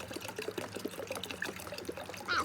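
Water pours steadily into a hydroponic basil container, a continuous close splashing trickle with a brighter gurgle near the end as the level rises.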